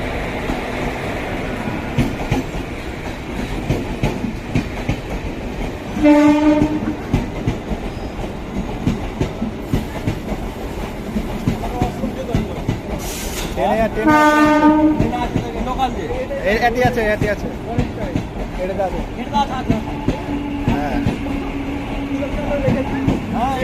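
Two train engines rumble into Lalgola railway station with steady clattering, and a horn sounds twice, loud and close, over the busy station.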